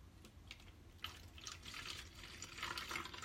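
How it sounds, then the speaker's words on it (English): Aloe vera juice poured into a small spray bottle, a light trickling and splashing stream that builds steadily over a few seconds, close and fairly quiet, with no talking. "we're going to take the aloe vera juice"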